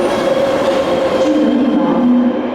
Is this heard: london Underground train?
yes